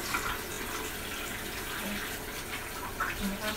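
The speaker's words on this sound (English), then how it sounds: "Then next, I want to wash my hands." Water runs from a faucet for hand washing in a home sink, making a steady, close splashing rush that continues the whole time with faint handling bumps and no speech.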